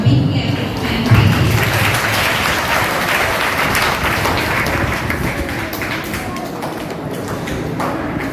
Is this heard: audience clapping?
yes